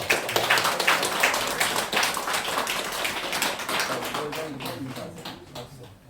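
Church congregation applauding at a deacon ordination service, a burst of close, brisk hand clapping that gradually thins and fades toward the end, with a few voices murmuring underneath.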